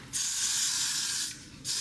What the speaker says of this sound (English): And I'm just gonna spray right there